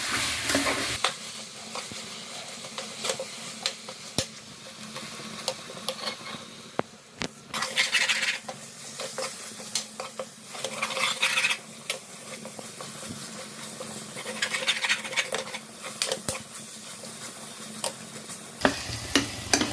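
Masala for duck gravy sautéing in a pan, a continuous sizzle with repeated scraping stirs and occasional utensil knocks, close and strong, no voices.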